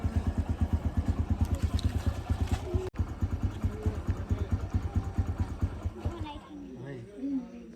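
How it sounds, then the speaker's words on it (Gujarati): A motorcycle engine idles with a steady, rhythmic thumping close by, then fades out as someone starts talking over it. "ગરમ થઈ ગયું બાઈક"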